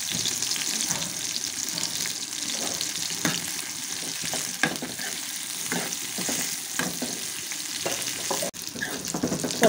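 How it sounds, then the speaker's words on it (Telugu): Green chillies and cumin seeds fry in hot oil in a pan, a steady close crackling sizzle with occasional sharper pops and stirring scrapes, no talking. "ఆయిల్ వేసుకున్నాం కదా కొంచెం వేయించుకుందాం ఇదిగో లైట్గా వేగని ఇప్పుడు ఒక స్పూన్ జీలకర్ర వేసుకుందాం"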